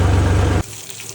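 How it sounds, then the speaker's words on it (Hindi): Water sprays hard onto a dirty tractor in a loud, steady gush, then cuts off abruptly halfway through, leaving only a faint hiss and soft drips. "घर पहुंचने के बाद ट्रैक्टर पर थोड़ा पानी मार लेते हैं।"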